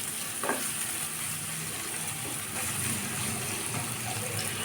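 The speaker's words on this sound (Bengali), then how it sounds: "এটা তেলের সাথে ভালোভাবে ভেজে নিব।" Half a bowl of chopped onions fries in oil for flattened-rice pulao (chirar polao). A steady close sizzle continues throughout, with faint stirring and scraping in the pan and no talking.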